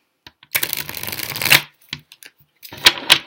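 A deck of playing cards being shuffled by hand: a quick riffle burst of rapid flicking, a brief pause, then a few sharper taps and riffles close up.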